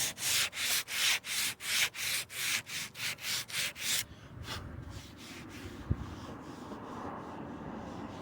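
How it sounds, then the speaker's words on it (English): Bondo body filler is sanded by hand in about a dozen even, rhythmic back-and-forth rasping strokes, close and loud, then the sanding stops, leaving quieter rustling and a single sharp tap. "When I sand that down, you shouldn't see anything."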